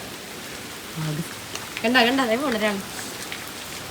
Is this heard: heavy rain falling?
yes